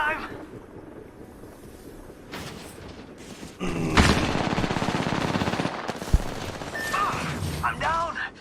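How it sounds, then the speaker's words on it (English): Rapid bursts of automatic gunfire rattle in a video game battle, growing louder and more sustained midway, with players talking excitedly over the shooting. "People. Firing! Getting shot at."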